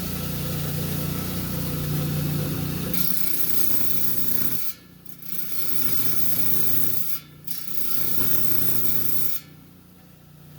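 An angle grinder with a diamond cutting disc cuts into rock, a loud continuous grinding whine that drops briefly twice as the blade is lifted and reapplied.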